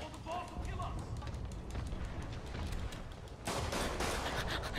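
Enemy gunfire in the Marvel's Spider-Man video game: dense, rapid bursts of shots and impacts roll continuously through the clip, growing louder and harsher near the end, layered with game effects.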